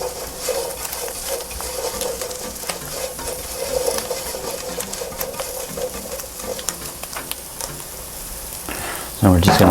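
Chickpeas fry in a skillet turned down to 275 degrees, giving a steady, dense sizzle with occasional stirring scrapes and a louder clatter right at the end.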